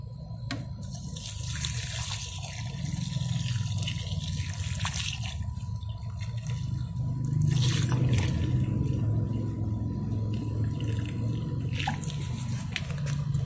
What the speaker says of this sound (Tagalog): Ayan, umaagos na yung kanyang tubig sa ilalim.